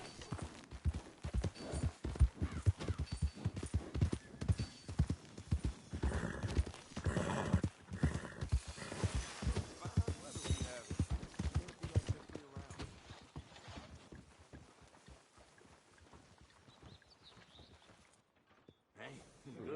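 A ridden horse in Red Dead Redemption 2 clip-clops at a walking pace, steady hoofbeats up close, with a character's voice talking over the hooves and a brief quieter stretch near the end.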